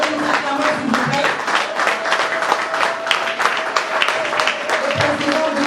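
An audience applauds Etienne Tshisekedi, president-elect of the Democratic Republic of Congo, at a gathering in Paris, with dense, steady clapping and crowd noise filling the whole stretch.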